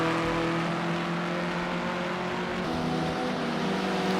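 BMW race car in Project Cars 2 at Oulton Park, its engine droning steadily under load as it climbs a hill, loud and continuous with no talk.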